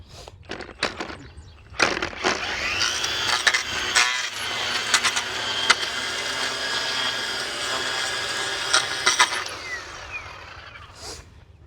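An EGO cordless power edger cutting along turf, a sustained high whining motor with scraping and gritty crackles, starting and stopping with sharp clicks, close and loud.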